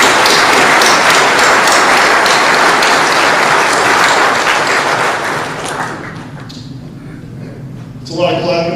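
Dense, loud audience applause at a fire school opening ceremony fills most of the stretch, then fades out, with a voice beginning to speak near the end.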